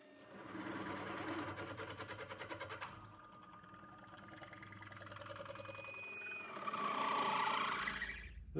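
Steady mechanical whirring and rhythmic chattering of a milling machine boring a metal engine cylinder, close and continuous, with a high squeal toward the end.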